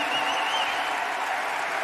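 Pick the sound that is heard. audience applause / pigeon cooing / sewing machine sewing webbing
audience applause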